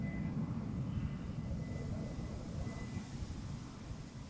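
An airplane takes off from Amsterdam Schiphol airport, heard as a faint, steady broadband roar with a low rumble that holds evenly throughout and no talking.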